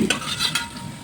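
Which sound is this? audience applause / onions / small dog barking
onions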